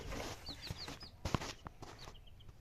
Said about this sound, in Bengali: এখানে মুরগি আছে, দেখুন ছোট ছোট বাচ্চা মুরগিগুলো